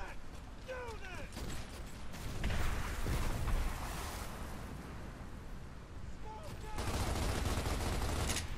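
Gunfire in Gears of War Ultimate Edition crackles as dense, continuous volleys under a noisy battle wash, with occasional short voice-like chirps and a louder swell near the end, fairly muted overall.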